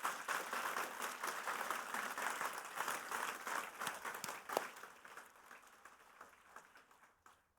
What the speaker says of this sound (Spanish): ¿por qué no dar un aplauso fuerte a Jesús por lo que Él está haciendo?